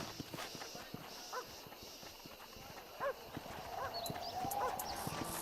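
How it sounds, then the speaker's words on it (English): Horse hooves clip-clop in the Red Dead Redemption video game. A few faint, irregular hoof strikes sit over a low ambient bed with soft whinny-like calls, and there is no clear speech. "This steed looks right Benji"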